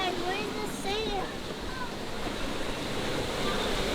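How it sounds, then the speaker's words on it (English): Ocean waves washing onto the shore at Myrtle Beach make a steady, loud roar with wind noise against the microphone, and a few faint tonal chirps drift through the background. "there's that sound again with the ocean waves crashing"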